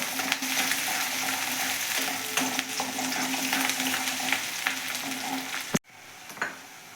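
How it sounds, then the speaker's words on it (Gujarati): Chopped onion sautés in a pan while cooking a Kathiyawadi kaju gathiya shaak, a steady close sizzle and crackle with brief stirring scrapes, then a sudden drop in level near the end as the heat quietens, with no talk. "આ ડુંગળી આપણે બ્રાઉન કલર જેવી થાય ત્યાં સુધી સાતડવાની છે"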